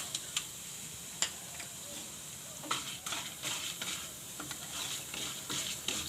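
Urad and chana dal roast in a pan over a low flame, with faint soft sizzling and light scattered ticks and scrapes of stirring.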